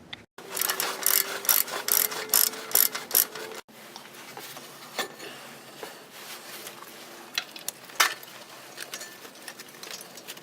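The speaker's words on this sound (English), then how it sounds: "Next we'll be removing the caliper bracket with the caliper still attached, and we'll hang that from a wire off of the strut." A hand ratchet works loose the front caliper bracket on a Trailblazer, with rapid close clicking in quick bursts for a few seconds, then fainter scattered clicks and taps.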